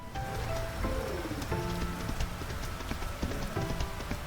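Steady rain falls in the Fields of Mistria farming game, a continuous patter mixed with soft clip-clop footsteps and small game chimes, moderately loud throughout.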